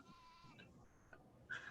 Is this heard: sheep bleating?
yes